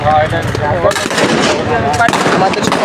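Weapons fire during Ansar training sounds in loud, sharp bursts over a noisy outdoor background, with voices mixed in.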